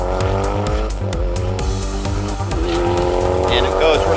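A Mitsubishi Evo rally car, number 954, at Targa New Zealand, its engine revving hard and rising through the gears with tire noise, loud and continuous, while a voice talks over it.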